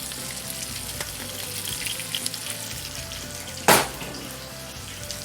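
Blackened shrimp fry in butter in a pan, giving a steady low sizzle, with one sharp clatter partway through as the shrimp are turned over.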